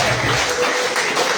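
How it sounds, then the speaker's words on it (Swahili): Steady, loud clapping from a church congregation welcoming a pastor, a continuous wash of many hands with no speech on top. "Pigia Bwana Yesu makofi mazuri"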